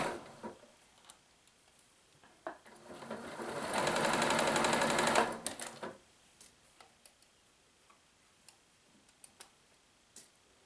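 A sewing machine stitches fabric for a peplum cardigan, running in one loud sustained burst near the middle, surrounded by soft ticks and handling clicks.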